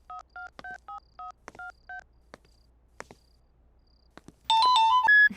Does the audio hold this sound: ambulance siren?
no